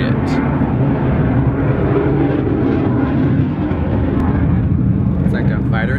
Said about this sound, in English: It's like a fighter jet, or what is that?